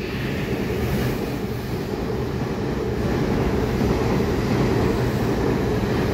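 An EMU commuter train passes through Yangmei station in Taiwan with a continuous loud rumbling roar and broad rushing noise that holds steady, close by, with no voices.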